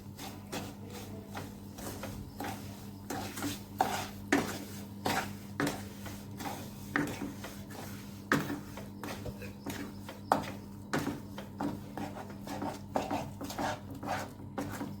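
Powdered sugar being stirred into a coconut and milk powder barfi mixture in a pan, with repeated scraping and clinking of a spoon against metal in an uneven rhythm over a low steady hum, no talking.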